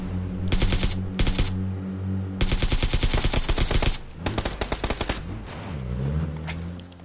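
Loud, rapid automatic gunfire in PUBG rips out in several fast bursts during a squad drive-by, with sharp repeated shots and brief pauses between volleys.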